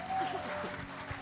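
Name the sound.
congregation applauding in church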